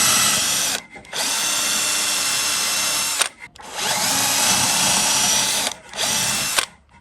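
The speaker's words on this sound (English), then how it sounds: "step 5 is to pre-drill the hole." Power drill pre-drilling a hole in wood for a kids' carpentry project, three long steady whining bursts separated by brief pauses, close and loud.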